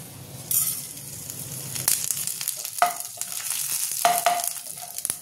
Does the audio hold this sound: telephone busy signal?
no